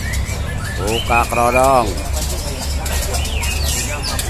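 A young white-rumped shama (murai batu) gives a short burst of loud, rapid warbling calls up close, over steady background rumble and talk.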